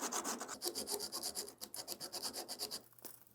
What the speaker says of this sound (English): So I have this little hobby saw here.